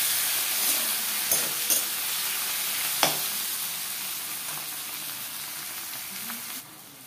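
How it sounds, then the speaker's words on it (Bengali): Steady frying sizzle of tomatoes being stir-fried in a pan, with a few sharp clicks and scrapes of stirring, close and moderately loud, no voices. "এটা কিন্তু ভালো করে নাড়াচাড়া করে ভেজে নিতে হবে টমেটোটাকে"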